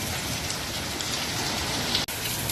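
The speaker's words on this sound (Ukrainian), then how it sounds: "А він як із відра л'є. І блискає, гремить. Дивіться, який дощара." Heavy downpour during a thunderstorm pours steadily, with a dense, loud hiss of rain close by and a brief dropout near the end, heard alone.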